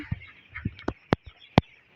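Several short, separate calls from broiler chicks on a poultry farm, with pneumonia in the flock, each a brief burst with quiet gaps between, fairly close and moderately loud.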